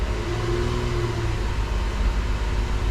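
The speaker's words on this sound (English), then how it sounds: "revving the engine a little bit here." A car engine is revved and held around 2500 RPM during a battery charging-system test with a handheld tester, giving a steady, dense, close mechanical roar with no talking.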